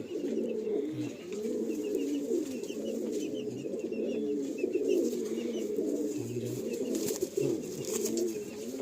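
Madrasi pigeons coo in a continuous, low, throaty burble from several birds close by. The sound is steady and moderately quiet, with faint background noise.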